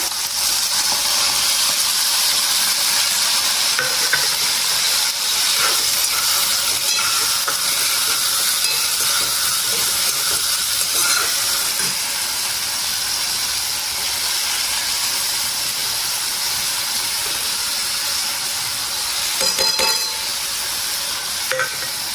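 Onion, tomato and chillies fry in a pan over mustard seeds and cumin, giving a loud, steady sizzle and hiss with occasional stirring scrapes throughout.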